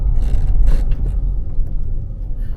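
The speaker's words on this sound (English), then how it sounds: "I'm driving down the road, hands off the wheel" A 1970 Chevelle Malibu cruising down the road, its deep, steady low rumble loud and close with some wind noise over it and no talking.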